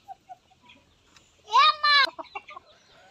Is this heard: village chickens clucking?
yes